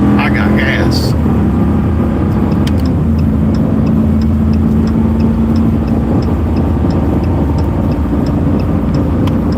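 A car drives along with a steady, loud engine and road rumble close by that holds throughout, with faint talking over it.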